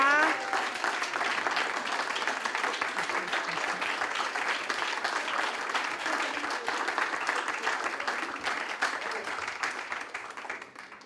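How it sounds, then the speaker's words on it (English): A church congregation at a spiritual community service applauds its new Board of Trustees, a sustained, even roomful of clapping that holds steady for several seconds and then begins to thin out. "Would you welcome your new Board of Trustees with applause?"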